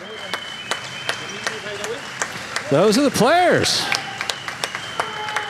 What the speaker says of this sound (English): Applauding you, the fans, and themselves.